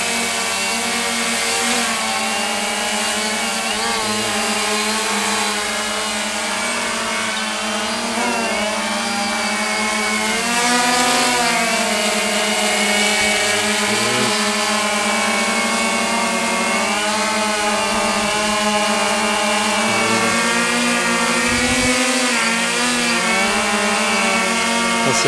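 Hubsan X4 Pro H quadcopter drone in flight, a loud, sustained high-pitched motor whine with wavering pitch as the rotors speed up and slow down, close by and continuous.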